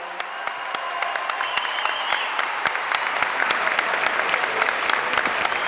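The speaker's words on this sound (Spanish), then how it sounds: "que suene el aplauso" Applause for Argentine President Alberto Fernández at a public event: a crowd claps continuously, with many distinct sharp claps over a steady wash of clapping that builds slightly in intensity throughout.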